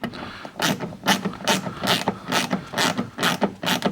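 A ratchet wrench tightens a nut on a threaded rod, drawing a red chamfered plug into a Toyota Supra MK3 door card. About eight rhythmic clicking ratchet strokes sound up close, with no voices.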